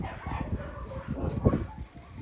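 A tiny puppy, young enough to still be nursing on its mother's milk, whimpers and yips close by in short, thin bursts, with people talking over it.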